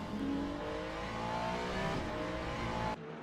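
Race cars at Fuji in the Le Mans Ultimate racing game, engines roaring loud and continuous with layered whining tones as a hypercar overtakes, cutting off abruptly near the end.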